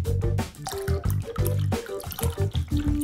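Milk pours and splashes into a large container of cheese, a wet, gurgling liquid sound with uneven glugs and drips, close and fairly loud.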